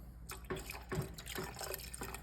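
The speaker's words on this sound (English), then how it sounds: "we're gonna slowly add in a cup of milk" A cup of milk being poured slowly into a savory mixture in a pan, a faint, soft trickle and splash of liquid with small irregular plops, close by and without talk.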